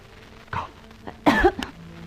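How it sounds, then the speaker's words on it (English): A man in a radio drama gives two short, rough coughs, a brief one first and then a louder, harsher throat-clearing cough, close to the microphone against a quiet background. "Cough."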